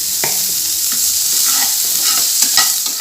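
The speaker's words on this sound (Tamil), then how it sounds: "இப்போ நல்லா வணக்கிக்கலாம்." Onions sautéing in a pan with a pinch of salt, a loud close sizzle with repeated scraping strokes of a spoon stirring them around.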